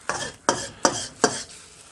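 Egg being folded and stirred through fried rice in a hot pan, four distinct scraping strokes at an even pace, each followed by a soft sizzle, close and moderately loud with no voices.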